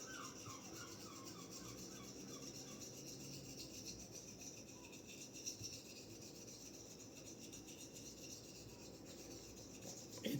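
A straight razor strokes steadily across a coticule stone with a faint, continuous scraping and rasping rhythm close by.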